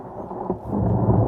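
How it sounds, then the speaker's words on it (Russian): Thunder rolls in a deep, steady rumble with rain hissing beneath it, building slightly louder as part of a lo-fi music track, with no voices present. "И мы, в принципе, выбрали дождь, звуки грома."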